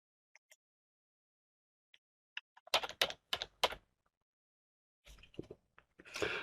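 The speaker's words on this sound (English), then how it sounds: "just type the word text into the document" Light clicks of someone typing a short word on a computer keyboard while entering text in photo-editing software, a few scattered taps followed by quick bursts of keystrokes in a quiet room.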